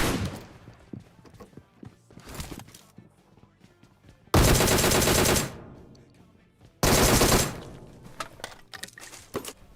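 M4 rifle fire in the mobile battle royale game PUBG Mobile, with two loud sustained automatic bursts and scattered shots and clatter between them.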